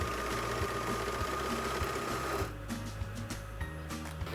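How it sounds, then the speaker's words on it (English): A serger runs steadily, stitching a folded sweatshirt cuff onto a dog jacket made from an old coat, its motor humming with rapid mechanical chatter throughout, slowing briefly near the end. "And then I just serged it"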